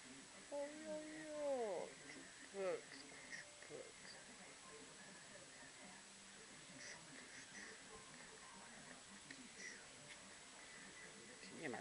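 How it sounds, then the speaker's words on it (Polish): Cats on a warm balcony let out several faint meows, rising and falling, mostly in the first few seconds, with quiet background noise and a person talking softly. "O, kotki."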